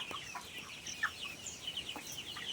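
Black Australorp chickens in a tin-roofed poultry shed, giving soft, scattered clucks and short calls over a steady background of bird noise, fairly near.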